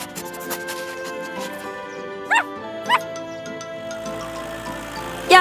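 A cartoon dog gives a few short, bright yips over a music-box style melody, with a longer bark near the end, in a children's animation about helper vehicles bringing a new red-doored kennel.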